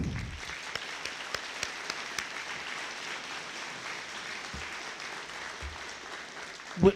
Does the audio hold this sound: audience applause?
yes